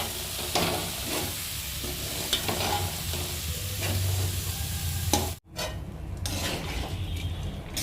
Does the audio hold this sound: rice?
yes